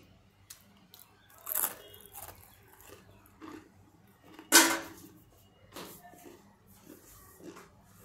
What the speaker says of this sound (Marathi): चकली मी तुम्हाला खाऊन पण दाखवते